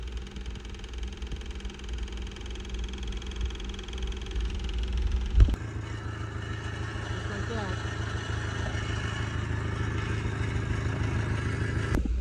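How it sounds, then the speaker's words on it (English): A bulldozer engine running on a mix of waste motor oil and gasoline idles with a steady, rough mechanical drone close by, and a brief knock partway through. "I can prove that I'm running the dozer on a mix of waste motor oil and still"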